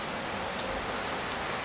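Rain falling steadily on surfaces, a dense even patter with no voices.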